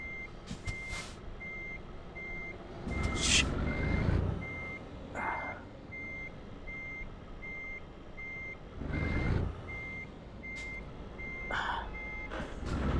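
Repeated steady reversing beeps from a truck in Euro Truck Simulator 2, evenly spaced and persistent across the whole stretch, with engine rumble and heavier noise bursts swelling in and out beneath them.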